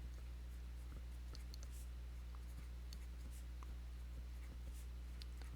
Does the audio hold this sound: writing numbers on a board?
yes